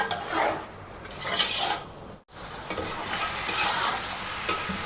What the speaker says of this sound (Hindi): और अब इसे तकरीबन 5 मिनट तक अच्छी तरह से भूनेंगे